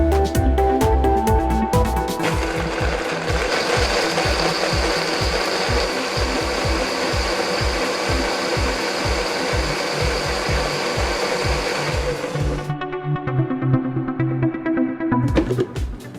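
A mixer grinder blends milk for a thandai drink, whirring loudly and continuously with a rhythmic churning pulse, then briefly cuts out and restarts near the end.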